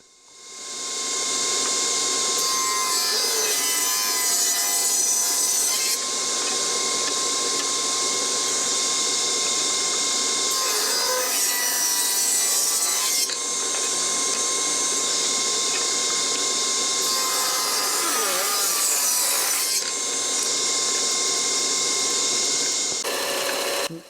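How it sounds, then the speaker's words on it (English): A saw cuts maple and walnut into strips with a loud, steady motor whine throughout, and the blade's pitch shifts during several separate passes through the wood. "start cutting lots and lots and lots of strips"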